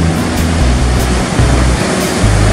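Large ocean swell breaks as heavy close-out dumper waves at a surf point on an early morning with faint offshore wind, a loud continuous roaring crash of surf with low rumbling surges and no voices.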